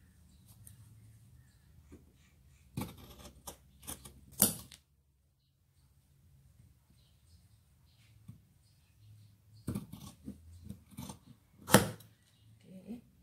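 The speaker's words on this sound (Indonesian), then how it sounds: "Okay, sekarang kita gunting." Scissors snip through fabric in a few short clustered bursts of crisp cutting, close and fairly quiet, separated by near-silent pauses.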